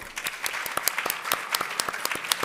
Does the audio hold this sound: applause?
yes